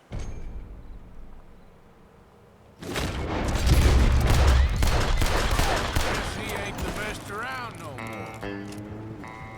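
A Red Dead Redemption 2 duel unfolds as a loud burst of gunfire breaks a quiet wait, the shots ringing out close and echoing, followed by some game voice.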